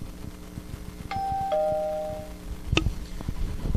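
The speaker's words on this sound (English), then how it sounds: "that actually was a doorbell on her side of the website" A website doorbell notification plays a bright two-tone electronic ding-dong chime, followed by a second sharp ring, clear over a faint background hum, with no talk.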